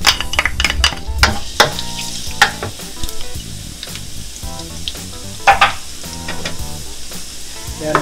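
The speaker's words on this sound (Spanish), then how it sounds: "Ya está caliente mi sartén, le agrego 1/4 de taza de aceite. Vamos a agregarle el ajo." Garlic hitting a quarter cup of hot oil in a heated frying pan for shrimp and meat rice, a loud bright sizzle with utensil clinks and scrapes scattered throughout, close up and alone.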